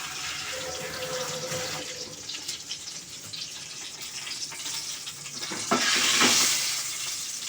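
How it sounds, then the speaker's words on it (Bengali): Cumin seeds sizzle in hot ghee in a pan, a continuous crackling hiss close by that swells louder near the end. Faint clinks and a brief running-water sound drift in the background, and no one speaks. "এবার আমি দিয়ে দিলাম জিরে ফোড়ন"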